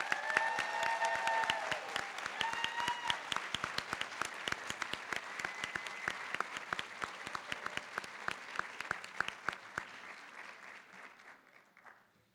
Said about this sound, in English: Let's give them a good round of applause.